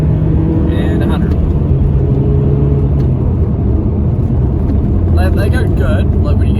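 Cabin sound from a Toyota Altezza with a six-speed manual and a fresh clutch: a loud, steady engine and road roar with slight shifts in pitch as it drives, and a voice breaks in briefly near the end.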